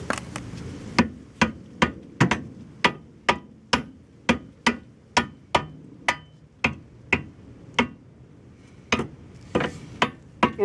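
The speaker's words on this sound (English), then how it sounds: "Or you can do what I just did and hit it with a hammer" A hammer strikes a strut shoe onto a brake bracket during a rear disc brake conversion on a 1991 Honda Accord. About twenty sharp metallic blows land close by at a steady, slightly uneven pace, with brief pauses between groups and no talking.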